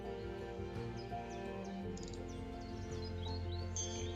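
A rose-breasted grosbeak's song from the Wingspan video game: sweet, repeated high chirps and warbles over a steady low musical drone, fairly quiet and with no speech.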